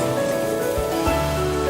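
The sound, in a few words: water poured into pan of fried jowar, rice and vegetables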